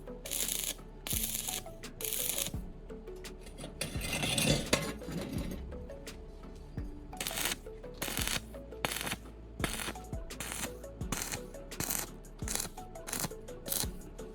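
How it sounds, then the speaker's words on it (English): Welding slag being cleaned off metal clamp joints, a quiet series of repeated sharp chipping and scraping taps in an irregular rhythm, close up and without speech. "I'm also cleaning up the welding slag to ensure strong, clean joints."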